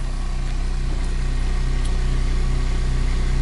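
Flux gate generator with one ring magnet and a full iron rotor spinning at 1933 RPM, a loud steady motor-like hum with an even, unbroken drone throughout.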